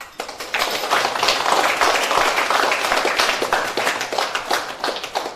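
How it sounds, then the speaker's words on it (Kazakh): An audience applauds teachers at a graduation ceremony in Atyrau, with steady, dense clapping from many hands that runs for several seconds and thins slightly toward the end. "сол үшін шапалақтап қойсаңыздар"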